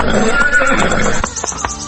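A horse pulling a carriage gives a loud, drawn-out whinny close by as it is brought to a halt, with a few hoof clops and creaks of harness mixed in.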